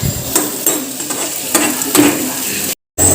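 Potato chutney fries in a pan with loud, close sizzling and rhythmic scraping stirs roughly every half second, cut off briefly near the end.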